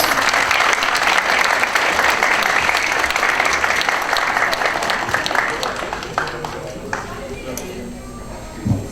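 An audience applauds as a speaker is invited to the stage at a hairdressers' federation event: dense, loud clapping from a large crowd that thins and fades toward the end, with a voice over it.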